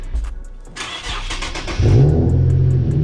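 Lowered Infiniti G37 starting up and driving off, with a cranking start, a rising engine rev, then a loud, steady engine drone close by.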